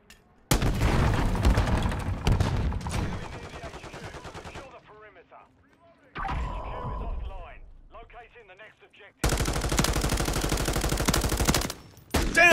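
Gunfire in Call of Duty Modern Warfare III multiplayer, loud sustained automatic bursts that stop, return briefly, then resume in a long heavy volley, close and dominant, with game effects between bursts.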